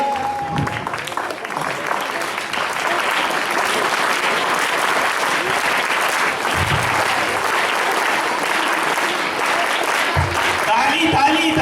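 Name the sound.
audience applauding loudly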